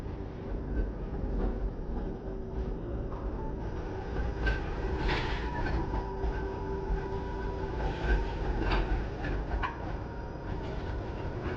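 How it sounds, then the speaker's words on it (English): A train rumbles past with a steady low roar, faint rail clatter and occasional metallic squeals, continuous throughout. "you guys should see the second train passing in front of it"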